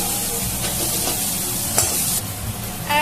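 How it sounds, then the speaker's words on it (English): Chopped onions and other ingredients being stirred in a kadai, a constant close sizzle with spoon scrapes against the pan and a brief sharper hiss partway through. "Just stir it for a while,"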